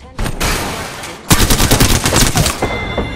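Rapid automatic gunfire in the Apex Legends battle-royale shooter: a short burst, a brief gap, then a longer dense volley of loud repeating shots ending in scattered rounds.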